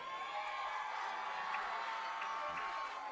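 A high school football crowd at Leuzinger cheers for the Olympian marching band, a dense, sustained roar of voices with scattered whoops and shouts.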